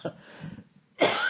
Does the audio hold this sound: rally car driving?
no